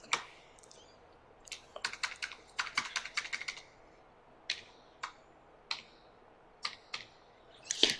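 Computer keyboard keys clatter as Java code is typed, a close, crisp run of quick irregular clicks in short bursts separated by pauses.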